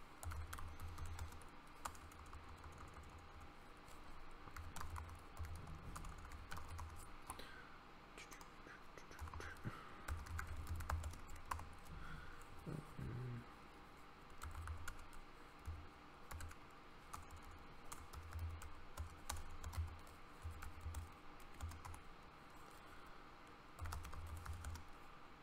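Router configuration being typed on a computer keyboard, steady rapid keystrokes running throughout at moderate loudness, with occasional low thumps and a faint murmur underneath.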